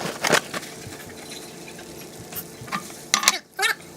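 Teriyaki beef and noodles are stirred in a pan, giving scraping, clattering utensil strokes in irregular bursts over a faint sizzle, close and moderately loud.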